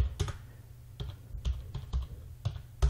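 A passphrase is typed on a computer keyboard in a handful of separate, crisp key clicks with short irregular pauses, close up and with no voices.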